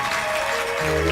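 Steady applause from an audience at a spoken religious discourse, a dense continuous patter that fills the whole moment with an even, close wash of clapping and no voices.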